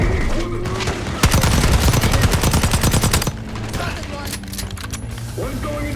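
Shotgun gunfire in the video game Call of Duty Black Ops 6 comes as a dense, loud burst of rapid shots lasting about two seconds, set among ongoing in-game battle noise and voices.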